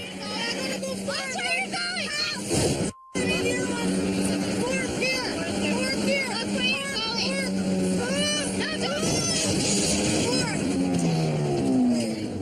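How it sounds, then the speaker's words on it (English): A car engine strains in second gear while the driver pushes hard to reach 70 km/h during a driving challenge, a loud revving drone running under almost constant talking. "Now she's in second gear, but she's almost melting the engine trying to get up to 70k an hour."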